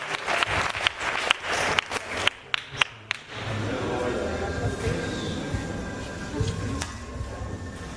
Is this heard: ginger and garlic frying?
no